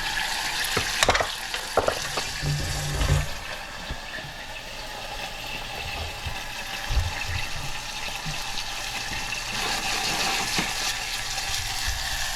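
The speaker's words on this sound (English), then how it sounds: "the onions are vigorously sauteing here in that vinegar" Onions sauteing in vinegar in a pot, a continuous close sizzle and bubbling hiss with a few brief knocks of stirring early on, running steadily throughout.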